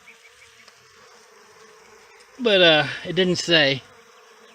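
Honey bees in a two- or three-pound shipping package give off a faint, continuous buzzing hum that runs underneath, briefly covered by a person speaking a few words.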